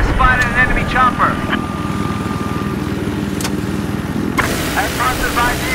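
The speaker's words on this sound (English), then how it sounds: "I spotted an enemy chopper." Enemy helicopter in Battlefield 4, a loud close rotor chop pulsing steadily beneath game voices and effects.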